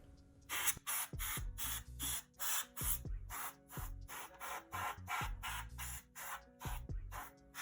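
Canned air sprays in repeated short bursts, hissing broadband blasts separated by brief pauses, as dust is blown out of the fan of a PS4 CUH-1001A console; close and loud with no talking.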